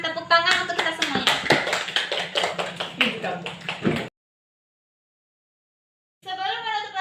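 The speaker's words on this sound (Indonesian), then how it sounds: "Sekarang silakan tepuk tangan untuk kita semuanya" Students in a classroom clap their hands together, a burst of sharp, rapid claps lasting about four seconds, followed by silence and then a teacher's voice speaking.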